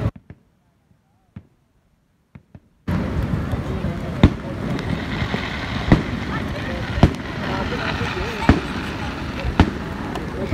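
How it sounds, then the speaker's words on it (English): Canada Day fireworks at Niagara Falls: after a quiet start with a few faint pops, a loud continuous rumble sets in with repeated sharp bangs at intervals, distant booms under crowd noise. "Why is there so much fireworks? It's Canada Day, July 1st."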